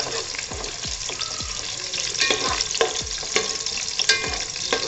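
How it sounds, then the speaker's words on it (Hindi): Whole garam masala of cinnamon, cloves and black cardamom fries in oil with a dense, steady sizzle, close up, marked by repeated soft knocks and scrapes of stirring. "गरम मसाला डालेंगे इसमें, दालचीनी, लौंग, सियाह इलायची, और इसे अच्छी तरह से भून लेंगे।"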